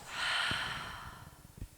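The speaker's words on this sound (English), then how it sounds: "full breath out through your mouth" A long, steady breath blown out through the mouth during a guided breathing exercise, a soft airy whoosh that swells early and fades, with no talking over it.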